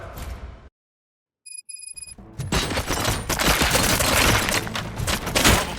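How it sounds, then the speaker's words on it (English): Gunfire erupts in the Robocop: Rogue City video game: a burst of shots, a sudden silence broken by faint electronic beeps, then a loud, sustained fusillade of rapid automatic fire. "Gunshots? What's going on?"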